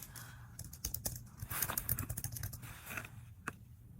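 Typing on a computer keyboard, close and fairly quiet, with a rapid irregular run of key clicks that bunches into faster bursts midway and trails off with a few separate taps.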